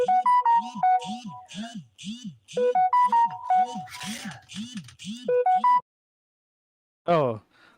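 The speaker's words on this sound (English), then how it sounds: "Oh, my phone was ringing." A bright electronic ringtone plays a repeating melodic pattern over rhythmic pulsing beats, looping twice before cutting off, followed by a brief chirp.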